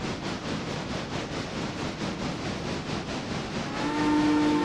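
Locomotive running in a modded railroad game, a steady, dense chugging rumble with hissing steam that holds evenly and swells slightly louder near the end, with a faint whistle-like tone rising in.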